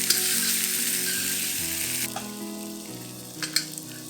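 Tofu fries in a pan with a steady close sizzle over a low background hum, then a few scraping clinks as the pieces are turned over.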